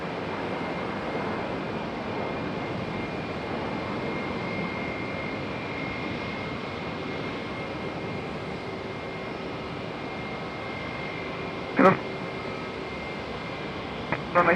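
A Frontier Airlines airplane at Raleigh-Durham airport produces a steady, broad engine roar that holds at even loudness throughout, with a couple of short sharp clicks near the end.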